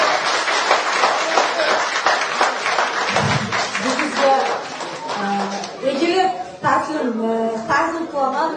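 Crowd clapping fills the opening seconds, then fades under loud overlapping voices and chatter that dominate the rest.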